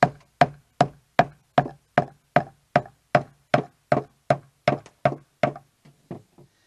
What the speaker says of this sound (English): Using the flat edge of the hammer, beat away at those peaks and ridges to knock them down flat.